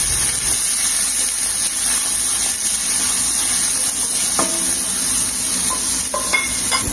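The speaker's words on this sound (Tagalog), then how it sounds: "inuuna ko talagang isute ang ginger or ang luya" Ginger sautés in hot oil in a pan with a steady, close sizzling hiss and occasional scraping clicks as it is stirred.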